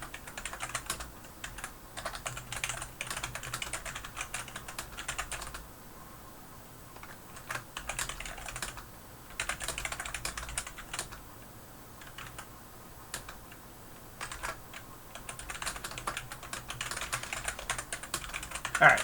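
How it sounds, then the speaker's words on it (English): Steady typing on a computer keyboard, with close, quick key clicks coming in bursts separated by short pauses and continuing throughout. "I can't type again tonight"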